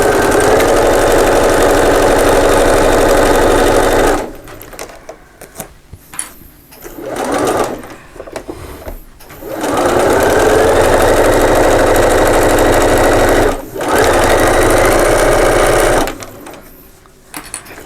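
Sewing machine back stitching a seam through lined fabric, its motor whirring loudly in long steady runs broken by short pauses and stop-start bursts, close and alone without talk.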